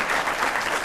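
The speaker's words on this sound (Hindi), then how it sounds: "एक बार फिर जोरदार तालियों से ईशान महेश जी का स्वागत करते हैं।" Studio audience on a TV talk show greets a guest with a brief, loud, continuous burst of dense clapping, no voices over it.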